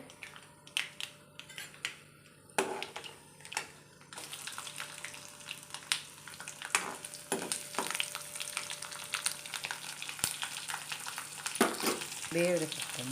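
Chana dal frying in a pan for a breakfast dish, a steady crackling sizzle with scattered sharp clinks and scrapes of stirring, moderately close and faint, with no one talking.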